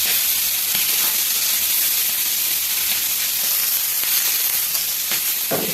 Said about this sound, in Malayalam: നമ്മൾ മീൻ പൊരിയ ദോശക്കല്ലിൽ ഇട്ടുണ്ട്.